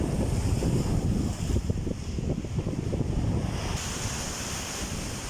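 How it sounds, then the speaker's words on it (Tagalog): Strong waves roll and crash along the shore of Manila Bay under gusty wind buffeting the microphone. The surf is loud and continuous at first and settles to a steady wash. "Lakas ng mga alon niya."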